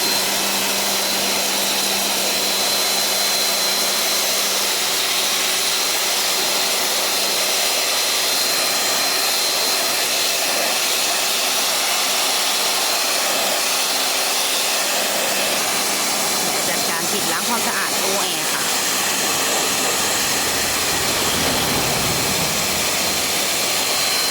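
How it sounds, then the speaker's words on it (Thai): A technician spray-washes the air-conditioner evaporator coil of a 2013 Honda Accord with about 152,000 km, a loud, constant hissing high-pressure spray roar that persists throughout with slight changes in texture. "ช่างทำการฉีดล้างความสะอาดแผงแอร์ค่ะ"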